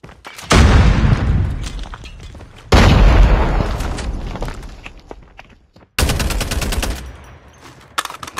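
Three loud, close blasts from a frag grenade in the mobile shooter Call of Duty Mobile, each a sharp boom with a long decaying rumble, spaced a few seconds apart with no talk.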